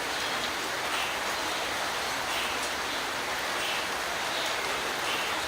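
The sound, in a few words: rain coming down outdoors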